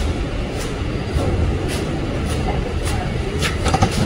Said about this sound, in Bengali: দেখো, ট্রেনটা এই প্ল্যাটফর্ম ছেড়ে বেরিয়ে যাচ্ছে।